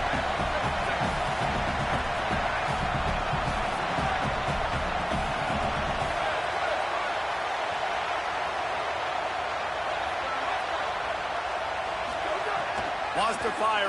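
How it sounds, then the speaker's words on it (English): Constant roar of a large football stadium crowd, loud and dense throughout, with heavy low rumble in the first half that thins later, under a commentator's voice. "This crowd trying to make life miserable for this offense."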